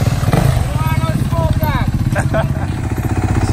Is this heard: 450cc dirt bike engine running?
yes